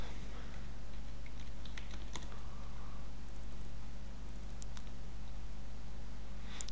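Typing on a computer keyboard while working in AutoCAD, with faint scattered key clicks over a steady low hum of room noise and no talking.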